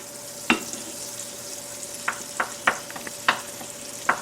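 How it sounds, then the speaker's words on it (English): About a tablespoon and a half of butter melts in a pan with oil, a soft steady sizzle punctuated by sharp pops and spatters at irregular intervals. "And I'm going to melt the butter."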